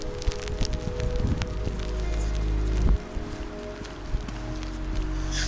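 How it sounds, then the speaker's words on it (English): Steady rain falls outdoors during a windy walk with a Sheltie dog, a continuous broadband wash with scattered drop patters, a low rumble of wind underneath and a brief louder burst midway. "this to me is rain you can work in. It's steady,"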